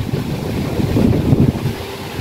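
Cold wind gusts across an outdoor swimming pool at a resort in Discovery Bay, a steady loud buffeting rumble on the microphone with no voices.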